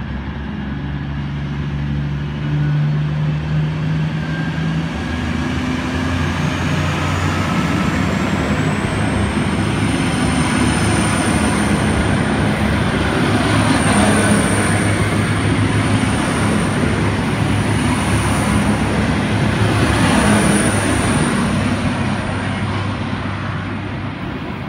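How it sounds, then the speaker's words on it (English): V/Line VLocity diesel train VL54 pulls out of platform 3 at Footscray, a steady loud engine drone and rolling rumble building slightly as it departs, with a faint high whine above. "VL54 departing platform number 3 at Footscray for Southern Cross."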